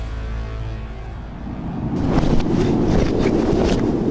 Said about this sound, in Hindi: यहाँ बहुत तेज हवा चल रही है, इतनी तेज कि मैं आपको बता नहीं पाऊंगा।